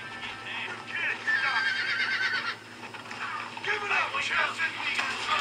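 A horse in the Red Dead Redemption video game whinnies twice, with a long wavering neigh followed by a shorter one. The calls sound fairly close and stand over a low steady hum, with faint clopping mixed in.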